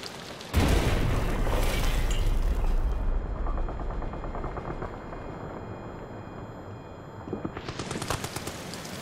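A grenade goes off in Amnesia: The Bunker with a sudden loud boom, followed by a long rumbling, crackling decay that slowly fades before a fresh burst of noise rises at the end.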